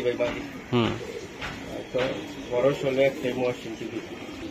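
Racing pigeons cooing at a pigeon farm, repeated soft warbling coos close by, layered over background voices talking.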